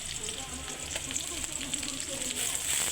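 Ginger and garlic frying in a pan with shrimp and onions, a soft steady sizzle with faint crackles and light stirring, heard alone without talk.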